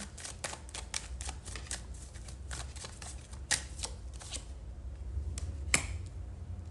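Tarot cards are shuffled close up in rapid, crisp riffling bursts with sharp slaps and flicks. The sound is quiet overall, with no talk.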